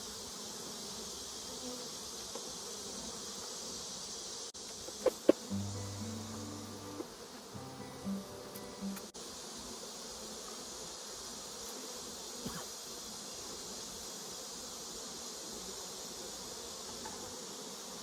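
Honeybees busy at the front of a hive, giving a steady, faint insect hum that runs through the clip, with a few brief louder knocks and tones around the middle and no talking.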